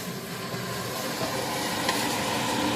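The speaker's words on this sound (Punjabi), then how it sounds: "ਹੁਣ ਆਪਾਂ ਪਿਆਜ਼ ਨੂੰ ਬਰਾਊਨ ਹੋਣ ਤੱਕ ਭੁੰਨਾਂਗੇ" Onions fry in oil for a tadka for mutton masala curry, a dense, continuous sizzle that holds at an even level throughout, close up and with no talking.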